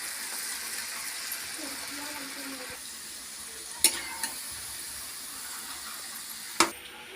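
Cauliflower fries in a pan with a soft, steady sizzle, broken by a couple of sharp clinks as it is stirred, under faint background sounds.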